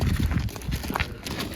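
Horse hooves clip-clop on the ground in irregular, close steps, mixed with rustling movement and outdoor noise.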